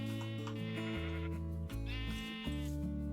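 Sheep bleating in Minecraft, several wavering game bleats in a steady run over constant looping background music, with no talking.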